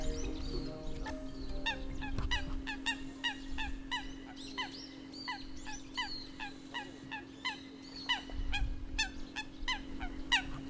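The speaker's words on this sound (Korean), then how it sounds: "신이 난 이 녀석들이 바로 백년지의 주인 노릇을 하고 있는 물닭입니다." Eurasian coots on a pond give repeated sharp honking calls, many birds overlapping in a busy, continuous chorus with some splashing, fairly close.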